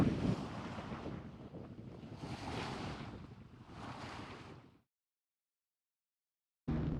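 A sailboat under sail in 10-12 knots of wind, bound toward Valencia near the Columbretes Islands, gives a steady rush of wind and waves in surging swells, cut by a sudden silence before resuming.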